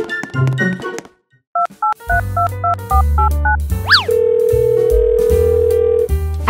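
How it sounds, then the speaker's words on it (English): In Roblox Brookhaven, a phone dials with a quick run of short tones, then a steady dial tone holds for about two seconds amid game music and electronic blips. "Wait for me to take this phone call."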